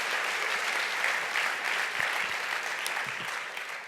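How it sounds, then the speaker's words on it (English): An audience applauds at a C40 Cities climate event, a dense, steady wash of clapping heard across the room that fades slightly at the end. "Another round of applause."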